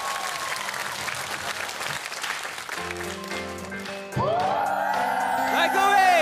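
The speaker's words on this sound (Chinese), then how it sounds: "我们掌声欢迎这几位同学" Studio audience applauding on a Chinese TV variety show as several university students are welcomed at the door, steady clapping mixed with crowd noise and music, with a host's voice speaking over it.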